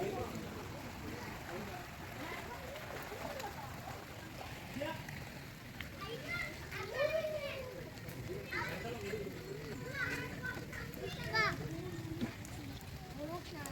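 Children playing in deep flood water covering paddy fields beside a road during the July 2024 floods, with splashing and excited young voices that rise and fall, steady rushing water underneath, and people talking throughout.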